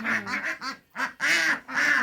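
Ninety-day-old farm ducks, each close to two kilos, give a quick series of loud, nasal quacks close by, broken by short pauses.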